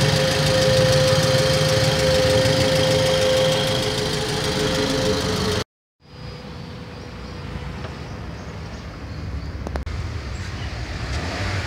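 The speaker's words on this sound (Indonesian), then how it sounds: "Suara mesin halus." A 2.4-litre Toyota Alphard engine idles with a smooth, steady hum and faint ticking, heard close; the sound cuts out briefly midway, then resumes quieter and more distant.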